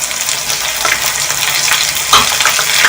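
Garlic, ginger and green chili paste sizzles steadily in a pan with browned onions, a continuous close frying crackle with a faint stir scrape partway through and no talking.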